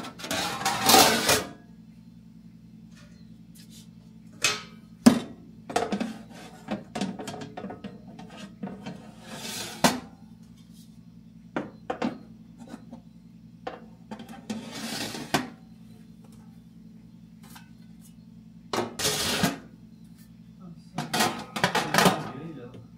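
Dishes clatter and clink in a home kitchen as they are washed and put away, with scattered bursts of clanking crockery and cutlery over a low steady hum, close by, plus some quiet talk.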